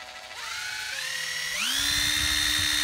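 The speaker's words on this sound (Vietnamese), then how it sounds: "Đây là con máy khoan bắn vít Hitachi 12V." A Hitachi 12V cordless drill driver whirs steadily for about three seconds, its motor pitch stepping upward twice as the speed increases, loud and close with no voices.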